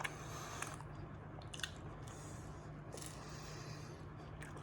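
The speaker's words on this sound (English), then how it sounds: "let's take a bite and then we'll be able to tell you" Someone bites into and chews a Roman-style pinsa pizza with a light, crispy base and stringy cheese, giving soft crunches and moist, squishy chewing close to the mic over a steady background hum.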